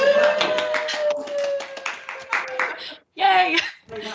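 A room of conference attendees claps for a panel presenter in bursts lasting a few seconds, with cheering voices and a short pause before the clapping resumes.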